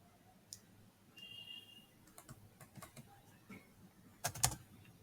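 Keystrokes on a computer keyboard as code is written, a scattered run of light, faint clicks with a denser, louder burst near the end, no voices.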